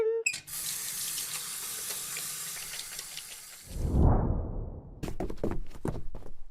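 Tap water runs for hand washing at a sink, a steady hiss of flow that cuts off with a hollow thunk, followed by a few quick clattering knocks.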